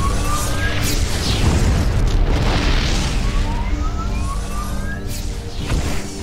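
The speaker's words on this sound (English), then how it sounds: "Hit him with the Yamato cannon. A couple of shots from that'll flatten anything." Yamato cannon firing in StarCraft 2, a dense sustained roaring blast with rising whistling tones layered over a continuous rumble, loud and close throughout, with no voices.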